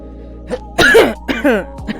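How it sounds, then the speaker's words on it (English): A few rough coughs or throat-clearing bursts, close and fairly loud, spaced out with short pauses between them over a low background hum. "I cough."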